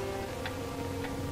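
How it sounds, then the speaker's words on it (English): A clock ticks twice at a slow, even pace over a steady hum and hiss, in a scene from a 1944 black-and-white film. "The ticking of the clock,"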